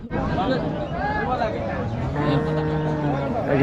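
A bull lets out a long, low moo amid the chatter of a busy crowd at a cattle market in Rajshahi, with voices talking over it.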